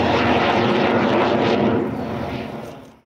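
A loud roaring jet engine on an aerobatic aircraft at an airshow passes close, a dense powerful rush that swells and then fades away toward the end.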